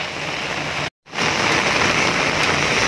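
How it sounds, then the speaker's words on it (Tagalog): Rain falling steadily outdoors in Hong Kong while walking, a dense continuous hiss that cuts out briefly and resumes, close and loud with no talk. "Maulan dito ngayon."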